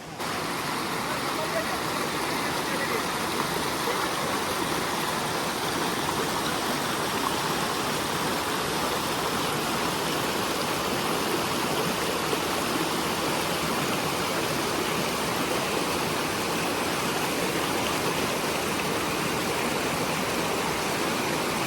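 A river stream rushes steadily on the forest trek to Devkund waterfall, a dense, unbroken broadband wash of flowing water that stays loud and even throughout, with no voices over it.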